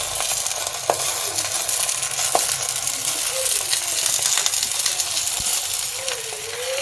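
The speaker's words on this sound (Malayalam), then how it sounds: "നമ്മൾ 1 കപ്പ് പാല്, നല്ല കട്ടി പാല്, 1-ാം പാലാണേ, തേങ്ങാപ്പാലാണ്, അതിലോട്ട് അങ്ങോട്ട് ഒഴിച്ചു കൊടുക്കുക" Thick first-press coconut milk poured into a hot frying pan, a dense continuous sizzle and bubbling with a few sharp clinks of a utensil against the pan.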